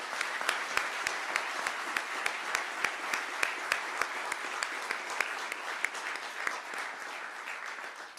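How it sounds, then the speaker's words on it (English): Audience applause at a defense research center announcement ceremony, a steady wash of clapping from a seated crowd with a few sharp individual claps standing out, faint and even before tapering at the end. "Let's give all of these people a big round of applause."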